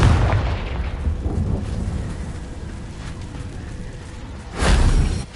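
A fiery Confringo spell exploding in the video game Hogwarts Legacy: rumbling, crackling blast noise that fades, then a second deep boom swells near the end.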